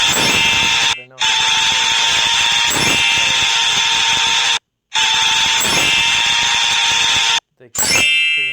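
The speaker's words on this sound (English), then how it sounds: "Take the drill and make 4 holes through the bone." A high-pitched surgical bone drill in a video game whines continuously and loudly with a few brief cutoffs, its tone steady and piercing throughout.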